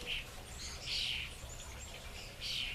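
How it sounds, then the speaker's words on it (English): Birds singing outdoors in three short bursts of high, bright chirps, quiet and somewhat distant, over a low steady rumble of highway traffic. "you hear birdsong and traffic"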